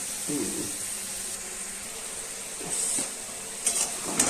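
Cauliflower, potato and egg curry sizzling in a pan while being stirred, a steady frying hiss with occasional scrapes and clinks of the spoon, close and moderately loud, a voice speaking briefly.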